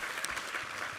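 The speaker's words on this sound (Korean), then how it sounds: "우리 하나님께 감사와 영광의 박수 올려드리겠습니다" A church congregation applauds during a Sunday worship service, a brief, even wash of many hands clapping at moderate volume.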